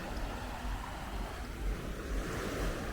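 Ocean waves washing onto a beach in Cabo San Lucas, a soft continuous surf wash with gentle swells and a low rumble, fairly faint and distant.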